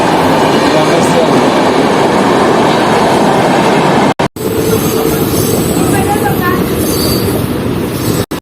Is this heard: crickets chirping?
no